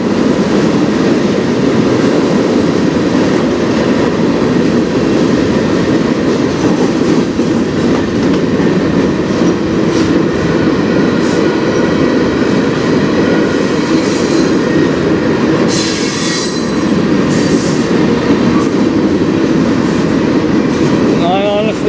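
A freight train of grain cars rolls past on the Strathroy Sub with a loud, continuous rumble and clatter of wheels, joined by high squeals in the later part.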